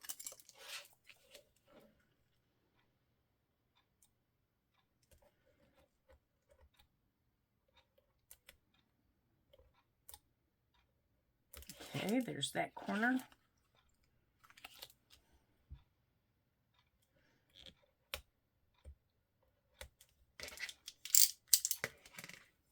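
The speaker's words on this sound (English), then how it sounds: "So I'm going to take my scissors" Scissors trim the corners of a playing card in a quiet room, making a few faint, crisp snips and small clicks separated by silence, with a brief spoken remark in between.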